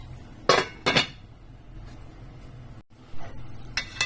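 A metal lid set back onto a pot of chicken adobo, heard as two sharp close clanks in quick succession followed by lighter clinks and handling noise, with no speech.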